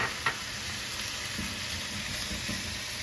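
Garlic sizzling in oil in a pan for a rustic chicken and sausage pasta, a steady close frying hiss with small crackles and a faint stir.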